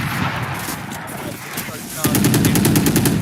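Rapid automatic gunfire rattles through a Valorant esports match at a university tournament. A dense wash of game sound comes first, then a steady burst of evenly spaced shots plays loud and close over a busy background.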